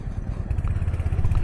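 A Royal Enfield Hunter 350 motorcycle rides over a broken road, its engine producing a close, low, pulsing thump with an uneven rumble that rises slightly after the first half-second.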